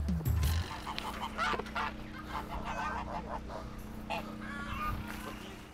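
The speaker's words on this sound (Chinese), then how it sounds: "这是鹅。" Goose honking loudly while being caught on a farm, sharp repeated calls mixed with scuffling and people talking and shouting nearby.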